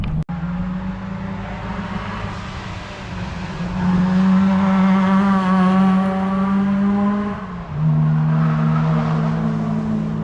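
A supercharged Honda Civic race car rolls up at a racetrack, its engine a loud, close, steady drone that swells as it revs and then drops to a lower idling hum, with no voices over it.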